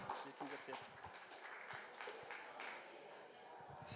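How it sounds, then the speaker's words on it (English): Scattered applause from a conference audience at the Nordic Pavilion during COP28, moderate and fairly distant, with a voice talking over the clapping. "Give her an applause."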